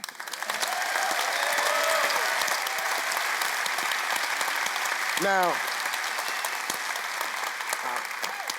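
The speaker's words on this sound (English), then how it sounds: "can we stop and give ourselves an applause for that?" Crowd at a climate movement rally bursts into loud, sustained applause with scattered cheers and whoops, a brief shout standing out near the end; a voice speaks one word at the start.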